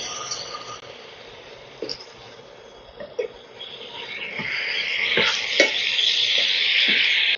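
Capsicum hits spiced masala already cooked down until the oil separates, for black pepper cauliflower curry. A few soft clinks and stirs come first, then the sizzle swells louder and brighter toward the end.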